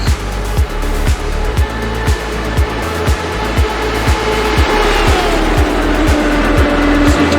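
Race cars at Talladega roar past in a loud, steady engine drone, with a regular series of rhythmic low thumps pulsing through it and a rising engine pitch near the end, no voices.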